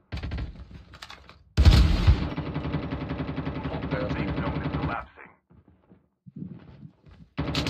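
Gunfire from the mobile game Call of Duty Mobile: a loud burst opens a dense run of rapid shots lasting about three seconds, with short gaps and a few quieter bursts, plus a voice under the action.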